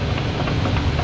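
A running Chevrolet Vortec 4.3 V6 engine with a worn, loose bushing gives a steady, close mechanical drone with a faint knocking rattle under it; no one speaks.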